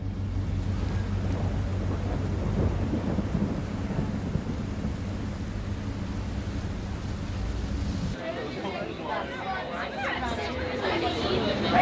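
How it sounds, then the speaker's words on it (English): Heavy rain pours steadily while low thunder rumbles and rolls, with people chattering nearby under the storm on a ferry on the Amalfi Coast near Positano. "So, there's a thunderstorm."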